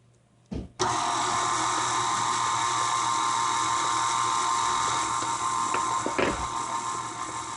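An electric mixer mixing cake batter switches on with a click and whirs continuously at close range, a steady high motor drone with a few brief bumps near the end.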